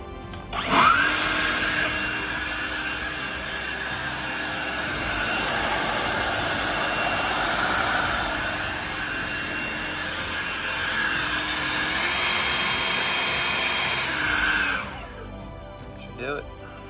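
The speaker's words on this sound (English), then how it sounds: "I'm gonna stick the leaf blower on that end over there. We're gonna blow it out real good" A leaf blower blasts air steadily through a turbo pipe for a compound turbo setup on a B5 Audi S4, a loud continuous rushing roar that starts abruptly and cuts off near the end, with slight swells in intensity.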